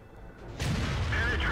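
A single heavy cannon blast from an SU-152 tank destroyer in World of Tanks bursts in loud and close, with a rumbling low tail that lingers after the shot over steady battle ambience.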